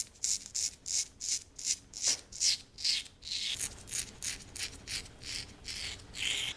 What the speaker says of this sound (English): tighten the skin and take the razor in small strokes, lifting it up each time, and use light pressure